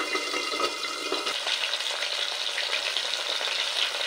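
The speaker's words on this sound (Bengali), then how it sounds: "দুবারে মাছটা ভেজে নেব।" Pabda and shingi fish frying in a pan, a steady close sizzle with crackling spatter running the whole time and no voices.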